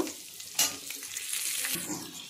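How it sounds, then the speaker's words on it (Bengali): Potatoes frying in oil in a home Bengali kitchen, a steady close sizzle with a sharp stir or scrape near the start and soft stirring scrapes throughout. "এবার আমি আলুগুলোকে একটু ভেজে নেব"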